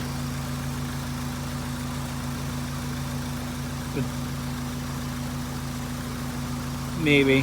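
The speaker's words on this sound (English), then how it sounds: "It does sound like we have a small exhaust leak in the back here." A 2003 Honda CR-V engine idles steadily after timing chain repair, a constant low hum with a faint ticking from a small exhaust leak at the rear; someone briefly speaks near the end.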